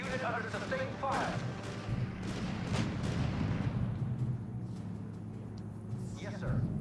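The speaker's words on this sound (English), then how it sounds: "Reporting. Unit under sustained fire." Artillery and gunfire pounding a unit in the real-time strategy game R.U.S.E., a rumbling barrage of thuds and bursts at moderate volume, with voices talking over it.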